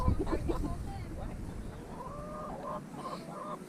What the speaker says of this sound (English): Speckled Sussex rooster.